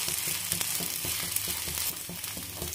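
A radish chilla roasting in oil on a flat pan gives a soft, even sizzle with faint crackles and small pops throughout, close but quiet, with no talk.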